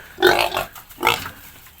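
A fairly large backyard pig grunts twice, close and loud, in two short nasal bursts with a brief gap between them.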